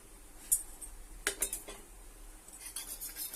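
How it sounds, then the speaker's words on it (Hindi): A spatula scores lines into flatbread on a hot griddle, making a few light metallic taps and scrapes, close but quiet, with a soft hiss underneath. "बस इस तरह से तावेटी से थोड़ा खांचा मारेंगे तो ये अंदर तक अच्छी तरह से सिकेगी"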